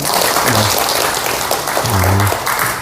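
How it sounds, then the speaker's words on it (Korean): Church congregation gives a round of applause in thanks, steady dense clapping from many hands throughout, with a low voice-like hum briefly rising underneath twice. "감사의 박수 한번 치실랍니까?"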